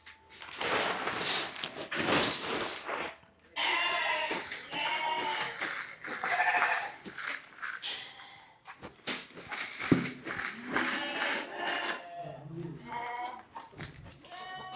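Goats on a goat and sheep farm bleat repeatedly and loudly close by, their calls overlapping with clatter from the pens and people talking in the background.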